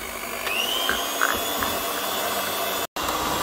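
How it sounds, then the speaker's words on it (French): An electric whisk whirs continuously at close range, beating cake mixture with icing sugar, a steady motor drone with a brief cut-out near the end. "Et on va fouetter."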